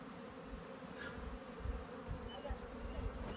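Swarm of wild bees buzzing as they leave a smoke-filled hive on an African cliffside during a wild honey harvest, a dense, steady, close drone with no voices.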